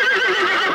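A single old horse whinnies loudly and briefly in a cartoon, a close, wavering neigh standing alone.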